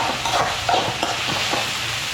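Green chillies and ginger stirred in a cooking pan while onions soften, a short run of spoon scrapes over a soft background sizzle, close and moderately loud, with no speech.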